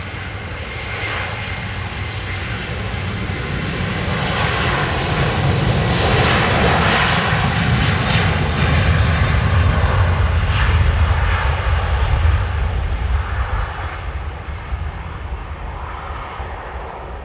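Ryanair airliner engines roar on runway 10 right at Dublin Airport. It is a loud, continuous broadband rumble that swells toward the middle and then slowly eases, with no voices.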